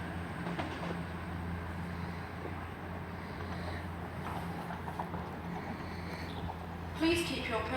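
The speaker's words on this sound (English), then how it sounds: "we've now got two trains coming in" Train pulling into a platform at Leicester station, a low steady rumble with faint clanking and a hiss near the end, heard at moderate distance with no talking.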